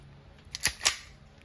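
An Umarex SA10 dual-ammo CO2 airgun pistol fires twice in quick succession, two sharp close snaps about a fifth of a second apart over quiet room tone.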